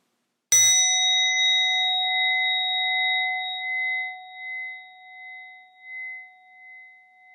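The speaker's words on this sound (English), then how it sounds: "the sound of the bell from the beginning of the ring" A single meditation bell is struck once and rings out with a pure, sustained tone that slowly fades toward silence, sounding alone in a quiet room.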